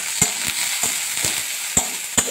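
Crushed ginger, garlic and a little onion stirred in hot oil for potato chop filling, with a steady sizzle broken by sharp scraping strokes of the spoon against the pan at irregular intervals.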